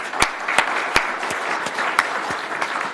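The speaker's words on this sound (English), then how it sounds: "Let's give him a round of applause," An audience claps in applause, a dense steady patter of many hands with a few sharper individual claps standing out, sustained for a few seconds.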